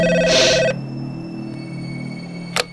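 An old-style telephone bell rings loudly in Max Payne 3, one bright burst of ringing that cuts off, followed by quiet ambience and a brief second chirp.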